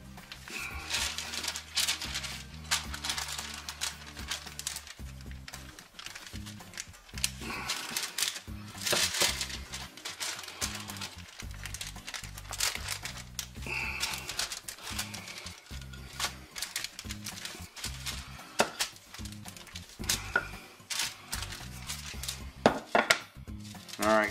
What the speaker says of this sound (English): I'm gonna take my little cutting board here. Flatten these dudes out.